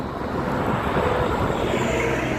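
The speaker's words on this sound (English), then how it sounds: "Here comes a tractor trailer." A loud, steady roar of a tractor-trailer truck rushing past nearby at a gas station, with broadband rumble and wind noise filling the whole moment.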